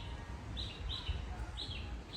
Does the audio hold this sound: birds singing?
yes